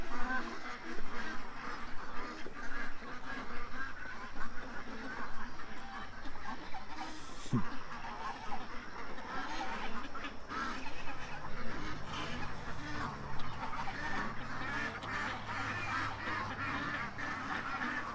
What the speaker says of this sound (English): the adult ducks are behind me looking for worms